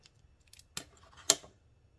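A pair of scissors snips the end off a piping bag of vanilla orange cream cheese frosting, two sharp distinct cuts close by in a quiet kitchen.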